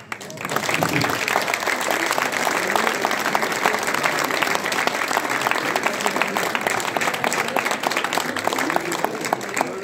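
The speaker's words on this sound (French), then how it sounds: "merci pour vos applaudissements et pour tout" A French concert audience gives sustained, dense applause after a brass band performance at a music festival opening concert, a loud, even wash of many hands clapping with faint crowd murmur beneath.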